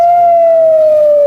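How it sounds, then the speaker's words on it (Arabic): An air raid siren wails over Tel Aviv during a rocket barrage, a loud steady tone sliding very slightly downward and sounding alone throughout. "صفارات الإنذار إذن تدوي الآن في تل أبيب"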